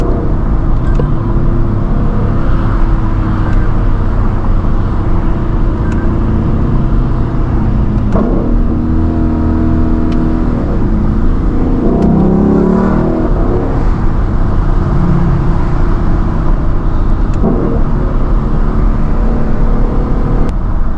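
A Lexus LC 500's V8 growls and surges through repeated downshifts on a drive, loud and close, with rising revs, sharp blips and throttle bursts over a constant engine drone.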